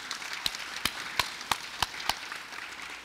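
A few scattered handclaps, about seven separate claps spaced roughly a third of a second apart, sound in a Kaohsiung city council chamber as visitors are welcomed. They are moderately close and sparse rather than a full round of applause.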